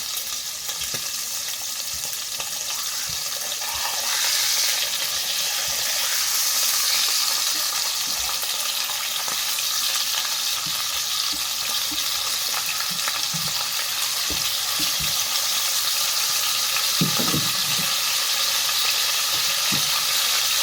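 Angus sirloin steak with roasted red peppers and onions frying in a pan, a loud continuous hiss and crackle that holds steady throughout, with occasional clinks and scrapes of stirring and flipping.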